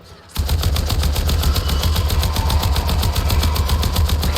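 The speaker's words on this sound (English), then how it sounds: "it's gonna take so many shots with this gun, it's ridiculous" Rapid automatic gunfire from a video game gun starts abruptly and continues as a loud, fast, steady burst to the end.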